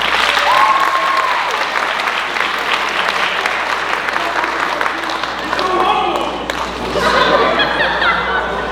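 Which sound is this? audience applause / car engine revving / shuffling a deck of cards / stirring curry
audience applause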